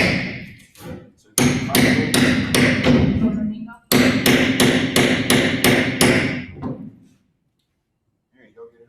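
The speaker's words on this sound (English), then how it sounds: "Works easier with the hammer than just with the cat's paw." A hammer drives a steel cat's paw nail puller under a nail in a floor, giving two rapid bursts of loud, ringing metallic blows close by, then silence and faint handling.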